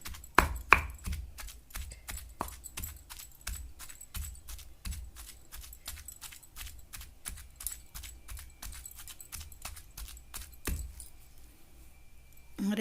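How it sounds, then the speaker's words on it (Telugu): Raw mango chutney being pounded by hand in a village-style kitchen, a steady run of sharp thuds, roughly two or three a second, sounding close and fairly loud with no talking. "ఇట్లా చేత్తో ఒకసారి మిక్స్ చేసుకొని దంచుకుంటామండి."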